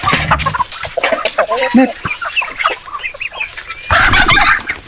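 Heritage native chickens cluck and squawk steadily and close by on a farm, several birds overlapping, with a brief spoken word in the middle and a louder flurry of clucking near the end.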